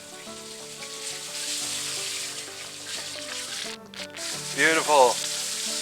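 Chicken for a Chick-fil-A style fried chicken sandwich sizzles steadily in hot oil after being flipped, a continuous loud frying hiss, with a brief spoken word from a voice near the end.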